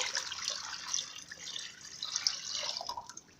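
Water pours from a container into a pot of sugar to make syrup for homemade gulab jamun, a bright splashing and trickling stream that swells and eases in close, with no talking.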